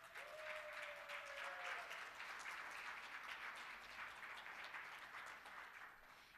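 An audience applauds the AV crew at an ADAO brunch, a steady, dense round of clapping from a seated crowd that holds evenly throughout, with a brief tone sliding through early on.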